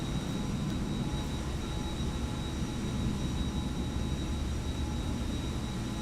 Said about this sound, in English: I can hear a plane, but I can't see it.